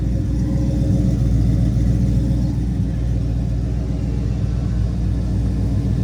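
A 1981 Chevrolet C10 with an LS V8 swap idles through Flowmaster Delta Force mufflers, a steady deep rumble with an even, burbling pulse that holds for the whole stretch, close and loud, with no talking.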